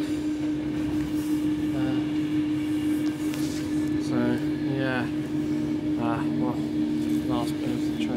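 A Avanti West Coast train slows into Milton Keynes Central, heard onboard as a constant rumble with a steady hum while short squealing tones rise and fall, under nearby talk.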